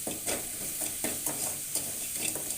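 Salt and turmeric sautéing in a hot pan for banana puttu: a bright continuous sizzle with regular spatula scrapes about every half second, close by, with no talking.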